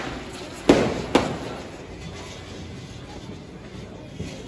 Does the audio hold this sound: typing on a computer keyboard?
no